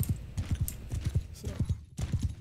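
Horse hooves gallop in a steady, rhythmic clip-clop in the Mount & Blade video game during a ride into battle, the repeated thuds loud and close with a light background wash.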